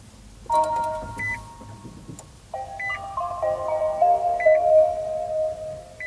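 A short electronic chime melody plays from a Nissan Leaf electric car on start-up, a few sustained tones with small beeps, fairly quiet, no talking.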